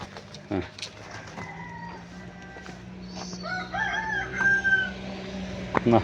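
A rooster in Meghalaya crows a couple of times at mid distance, the call rising over steady background hum and occasional bird chirps.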